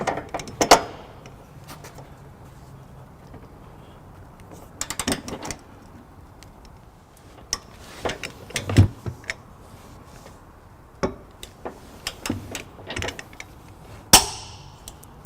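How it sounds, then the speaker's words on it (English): A 1/2 inch socket tightens the trailer hitch bolts on a 2014 Subaru Crosstrek, with intermittent ratcheting clicks and metallic clanks in short bursts and quiet pauses between them. "for our remaining 1/2 inch bolts, we're going to switch over to a 1/2 inch socket"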